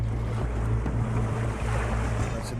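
A struggling boat motor out at sea, its low droning engine chug running steadily and loudly beneath rushing wind and water noise, with no voices over it.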